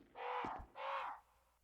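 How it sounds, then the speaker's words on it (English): Two loud, harsh crow caws ring out in quick succession in the Resident Evil Remake game, close and clear against a quiet background. "Crows."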